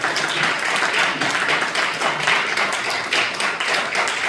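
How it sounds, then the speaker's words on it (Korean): A church congregation applauds the Michael choir at a youth worship service, steady dense clapping from many hands sustained throughout with no voices. "우리 미가엘 성가대에 큰 격려의 박수 보내주실까요?"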